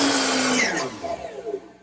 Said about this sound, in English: I'm going to make those miter cuts here at the chop saw